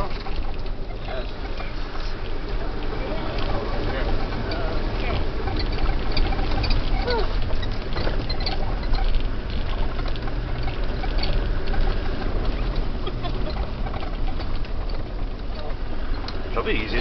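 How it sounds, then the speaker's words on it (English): Land Rover Defender 110 fording a river in Iceland, with a continuous rush and churn of water and engine noise filling the cabin and occasional voices talking over it. "Probably easier driving through the river."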